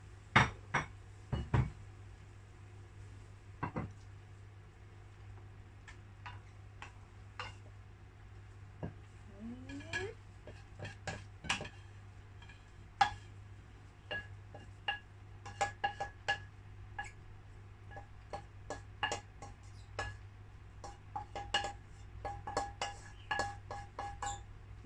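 Plates, pans and cutlery clink and clatter in scattered sharp knocks while Thai Pad Gaprao Moo Sab is served up from the pan, over a low steady kitchen hum.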